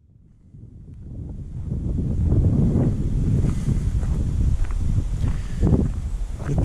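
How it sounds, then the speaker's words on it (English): Wind gusting across an old WWII RAF airfield, a low rumbling buffet on the microphone that rises after the first second and stays steady, loud and close. "The wind's not making too much noise."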